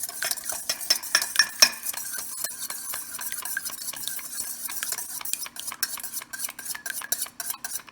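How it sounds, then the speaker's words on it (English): An egg whisked in a bowl for chocolate muffins, rapid rhythmic clicking strokes of the whisk against the bowl, close and steady, speeding into sharper taps toward the end. "you can take your whisker and just whisk the egg itself."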